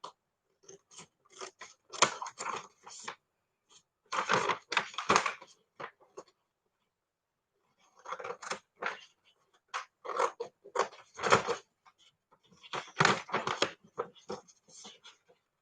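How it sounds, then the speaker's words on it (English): Scissors cut out a paper gift bag in close, crisp snipping bursts, several quick cuts per group with short quiet pauses between. "Just cut your gift bag out."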